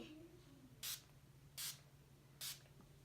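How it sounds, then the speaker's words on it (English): Three short hissing bursts of makeup finishing spray, evenly spaced about a second apart, close by against a quiet background hum. "Now I'm going to finish it off with finishing spray."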